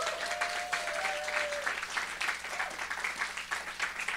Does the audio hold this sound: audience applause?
yes